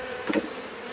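A brief swell of insect buzzing, honeybees from a swarm humming close by for a moment against a steady low background.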